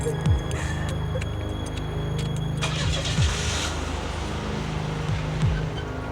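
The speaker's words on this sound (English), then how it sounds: "Start the car!" A car engine cranks and turns over during a tense liquor store robbery getaway, steady engine rumble with low pitch sweeps of revving, no talk.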